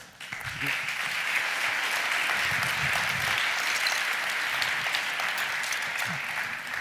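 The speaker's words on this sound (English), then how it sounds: "could you give a big round of applause, please, for Josh Kim?" A Berlinale Talents audience gives Josh Kim a big round of applause, dense steady clapping from a full room that carries evenly for several seconds with a faint murmur beneath.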